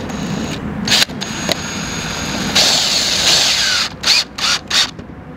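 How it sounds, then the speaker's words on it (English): A power drill drives screws into the wood of a Veranda polycomposite deck railing, with loud, close whirring bursts. A long sustained run is followed by several short, separate pulses. "And now we're screwed onto the wood."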